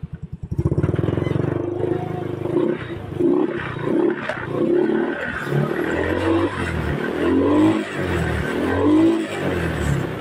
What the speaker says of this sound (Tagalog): ngayon nung pinaandar natin yung motor, kahit na nire-rev natin na medyo high RPM na